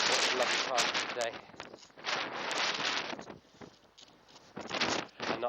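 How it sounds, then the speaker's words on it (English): Strong gusty wind buffets an outdoor microphone with loud, broadband roaring bursts that rise and fall throughout, while a voice speaks underneath. "I hope you can hear me over the sound of the wind today. It's very, very windy"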